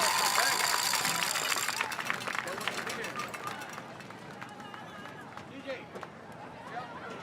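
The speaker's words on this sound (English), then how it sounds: "Give them another round of applause." Crowd at a high school homecoming football game applauding Bulldog Ring of Honor inductees, broad clapping and cheering in the stands that fades over several seconds into murmuring chatter and scattered voices.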